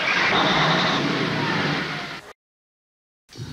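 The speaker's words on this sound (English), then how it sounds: "We started 5 cars with one 2-year-old die-hard battery and 1 car at 30 below after 8 hours in a cold room" A car engine cranks and catches in freezing cold on a DieHard battery, a loud, close roar that cuts off abruptly into silence before a faint sound returns at the end.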